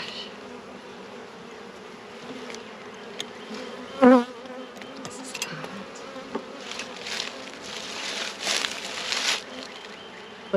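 Honeybees buzz steadily around an opened hive with a broken box, with a dense drone throughout, a brief louder thump near the middle and rising swells of close buzzing later on.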